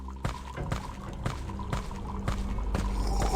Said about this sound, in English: What's the water pouring? Oh, the fountain.